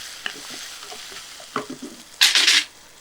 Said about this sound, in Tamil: இதை நல்லா மிக்ஸ் பண்ணி விட்டுருங்க.